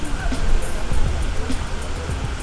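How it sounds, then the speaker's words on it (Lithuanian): Spring water pours from the mouths of 25 lion-head spouts on a village fountain, a loud, steady splashing rush heard up close with no talk over it. "fontanas su 25 liūtų galvom, iš kurių burnų teka"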